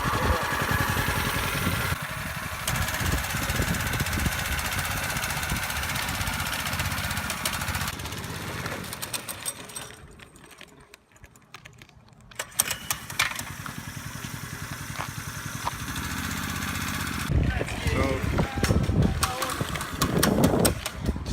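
A cold small engine on a home built drift trike running: a rough, uneven mid-pitched putter that sags and nearly dies around throttle before picking back up, with someone talking over it.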